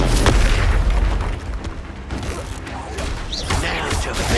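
Spell explosions from the Expulso spell in the Hogwarts Legacy video game. Dense booming blasts and crackling debris form a continuous loud battle din, with a few brief sharp bursts on top.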